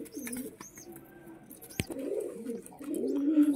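Pigeon feeding a baby pigeon, its low throaty cooing rising and falling in soft repeated bursts nearby, with a brief sharp click in the middle and faint chirps around.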